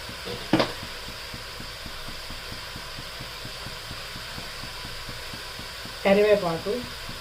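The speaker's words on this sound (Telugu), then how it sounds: "ఇప్పుడు ఇదిగోండి ఈ పచ్చిమిరపకాయలు వేస్తున్నాను" Green chillies fry in hot oil for a bera kai curry, giving a continuous close sizzle with small ticking pops, plus a brief clatter near the start and a short burst of speech near the end.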